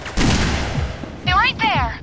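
Bursts of heavy gunfire from the Perfect Dark Zero video game crackle loudly at the start, then continue under a character's urgent shouted speech.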